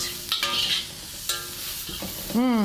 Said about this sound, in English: In a very hot wok, you add the leeks, garlic, and curry powder.